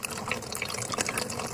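Fresh mountain spring water runs steadily from a hose, a continuous close splashing and gurgling stream that fills the whole short stretch with no talk over it.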